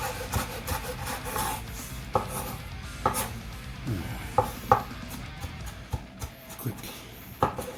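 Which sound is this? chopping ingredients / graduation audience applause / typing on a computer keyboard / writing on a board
chopping ingredients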